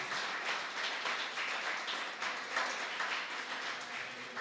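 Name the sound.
church congregation applauding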